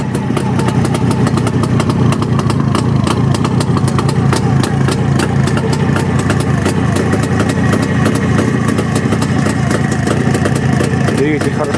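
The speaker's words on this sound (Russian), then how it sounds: "Двигатель хорошо работает" A motorcycle engine runs steadily at close range with a rapid, even putter throughout, holding a constant loud level.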